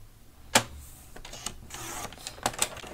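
A sheet of 8 1/2 by 11 paper is trimmed down to 7 by 7 inches for a box lid, heard as a few sharp close clicks and soft sliding scrapes, with no talk.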